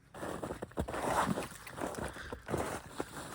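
Footsteps crunch through fresh snow on the walk down to a house during an April snowstorm in California, a steady run of close, gritty crunches with a little breathy background.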